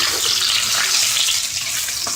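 Steady, dense sizzling of chicken frying in hot oil, a continuous crackling hiss at close range with no talking.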